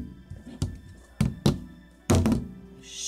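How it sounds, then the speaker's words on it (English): A plastic bottle flipped and landing on a hard surface gives several separate hollow thunks with short gaps between them. The sound is close and fairly loud, with a faint brighter rustle near the end. "we'll do a little bottle flipping"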